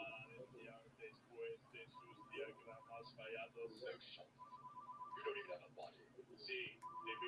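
A telephone rings inside a Red vs Blue Season 4 scene, with a repeating electronic ring tone running through, mixed with voices and other background sound.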